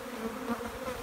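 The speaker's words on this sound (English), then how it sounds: "Those are boxes of bees." Honey bees buzzing inside wooden hive boxes make a steady close-up drone with slight wavering over about a second.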